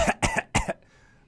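Three sharp coughs from one person come in quick succession, close and loud, followed by a brief quiet tail.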